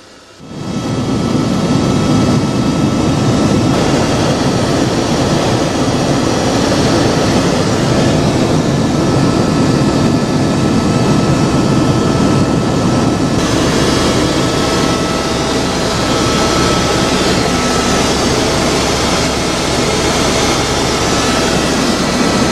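A helicopter flying toward the Porter Idaho Mine near Stewart, BC fills the cabin with a loud, constant roar and whine that holds steady throughout.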